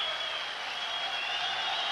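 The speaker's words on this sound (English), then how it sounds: "sporting applause there too from the local fans" Steady applause from the home football crowd at a stadium, a broad hiss of clapping that holds evenly throughout without a break.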